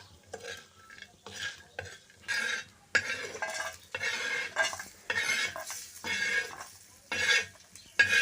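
Drumstick pod curry with turmeric being sautéed and stirred in a pan, a spoon scraping and clinking against the metal in irregular bursts with a soft sizzle beneath, close and fairly loud, no talking.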